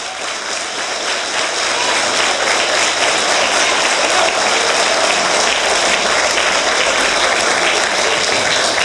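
A church audience applauds loudly and steadily, the dense clapping building quickly and holding at full strength for about nine seconds with no voices over it.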